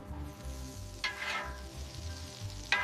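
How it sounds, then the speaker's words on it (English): Buttered hoagie rolls toast cut side down in a hot pan, giving a soft, even sizzle over a low hum, with a few brief sharper crackles. "Butter the hoagie rolls and toast them cut side down until perfectly golden."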